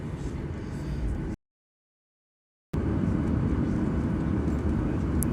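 A passenger airliner's engines roar steadily from inside the cabin as the plane begins moving on the apron. The dense, even rumble cuts out briefly to silence, then returns at the same level.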